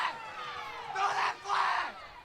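A spectator yells loudly right beside the crowd microphone at a high school football game between the Oologah Mustangs and Miami Wardogs, with two strong shouted bursts rising over steady crowd noise.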